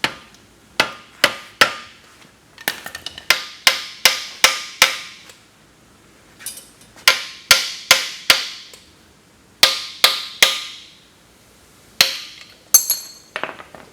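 Hammer striking metal brake parts during a four-wheel disc brake job on a 1972 Dodge Challenger: sharp, ringing blows, close and loud, coming in irregular bursts of quick repeated strikes with short pauses between.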